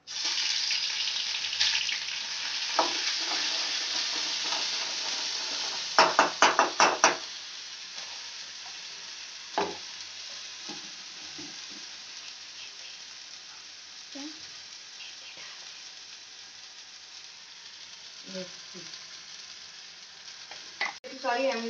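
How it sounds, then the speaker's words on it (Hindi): Oil sizzles and crackles steadily as spices, including fenugreek, temper in a hot pan for paneer curry, with a few sharp clinks of a utensil and brief bursts of louder spitting. "हम पनीर की सब्जी के लिए तड़का लगा रहे हैं"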